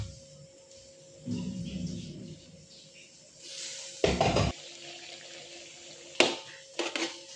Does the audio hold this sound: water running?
yes